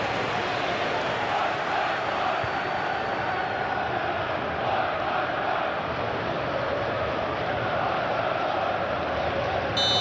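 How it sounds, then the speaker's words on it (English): Sustained stadium crowd applause and roar in the PES football video game during a Chelsea vs Newcastle United Premier League match, a steady dense wash of noise lasting throughout. "it's applause all round us here"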